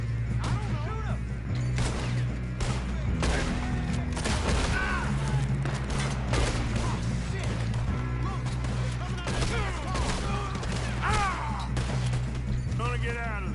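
Gunfire in a Red Dead Redemption 2 shootout: dense bursts of shots and impacts crackle through the whole stretch, with steady game music beneath and voices calling out over the fighting.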